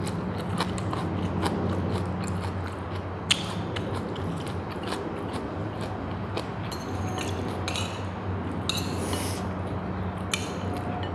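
Steady close-up crunching and chewing of crisp stir-fried Chinese kale with canned fish, with occasional sharp crackles over a constant low background hum.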